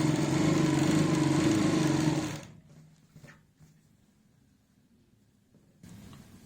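Electric sewing machine stitching the folded edge hem of a salwar, a loud steady whirring motor run that stops abruptly after about two seconds, leaving a quiet room with faint soft handling noises.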